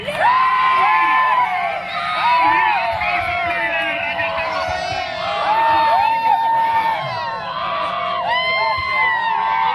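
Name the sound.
cricket crowd cheering at final match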